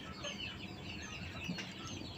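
A close, continuous chorus of newly hatched chicks and quail chicks peeping busily, with occasional soft clucks mixed into the steady chatter.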